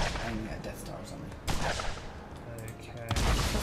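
Fireworks going off in the video game Borderlands, sharp bursting blasts at the start, around one and a half seconds and again near three seconds, over a busy ongoing game soundscape.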